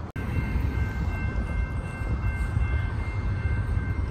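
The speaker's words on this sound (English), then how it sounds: "we got a train coming right here" A freight train hauling steel coils rolls toward a road railroad crossing with the gates down, a steady loud rumble of wheels and cars with a faint sustained horn tone, no talking.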